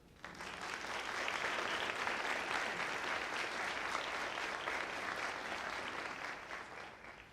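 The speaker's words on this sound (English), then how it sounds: "Another round of applause." Sustained audience applause fills a hall after a talk at a breast cancer symposium, a steady, dense wash of many hands clapping at moderate distance with no voices over it.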